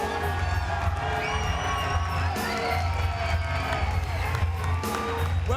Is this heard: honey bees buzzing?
no